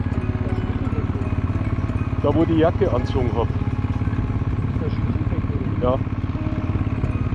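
A motorcycle engine idles steadily up close on a road trip through eastern Anatolia, its low, even rumble running under German conversation.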